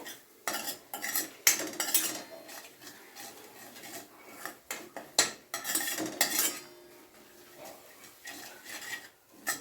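Whole spices are roasted in oil in a pan for gooseberry pickle. A spoon scrapes and clinks against the metal in quick, irregular strokes, with soft stirring rustles between them and no talking.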